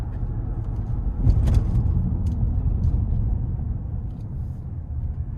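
Cadillac Escalade Platinum 6.2 V8 pulling onto an interstate under moderate throttle, a steady low engine rumble with road noise heard from inside the cabin, swelling slightly partway through.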